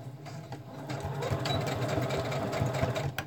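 A sewing machine stitches a junk trunk kit cover, running steadily and close at a fast, even whir-and-clatter pace for a few seconds, with no voices over it.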